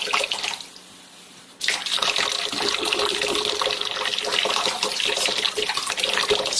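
Water pours steadily from a tap, a close, continuous splashing flow that starts abruptly after a brief quieter moment and holds at an even level.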